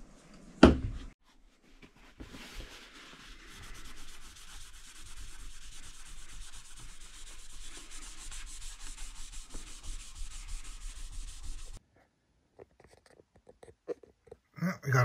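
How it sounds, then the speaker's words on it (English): Cloth rubs conditioner off a guitar fretboard, a soft continuous scrubbing and swishing that runs for several seconds, preceded by a knock and followed by quiet handling sounds. "We'll let that soak in for a few minutes, and then we'll wipe off the excess."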